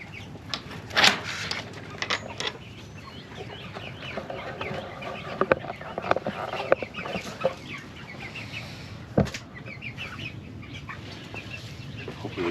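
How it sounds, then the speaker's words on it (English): Chickens cluck and murmur inside a muddy coop, with scattered sharper squawks and occasional wing flaps rising over a continuous low chatter of the flock at close range. "Happy chickens."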